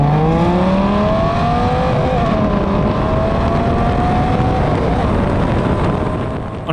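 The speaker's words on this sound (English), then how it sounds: "we're going to start with a roll race that goes from 20 to about 140 miles per hour" Cars, including a Corvette, accelerate hard in a roll race from about 20 toward 140 mph, their engine notes climbing steadily in pitch under loud rushing wind noise.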